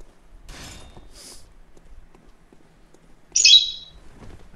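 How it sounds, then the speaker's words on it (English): Bird chirping in the video game Bloodborne: a loud, brief burst of high tweets near the end, following a couple of fainter chirps earlier, with no talking. "I hear a bird."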